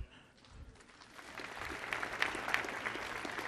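Audience applause for a brass band performing live on a concert stage, starting faint and thin, then swelling into steady clapping with scattered sharp individual claps over the final two seconds.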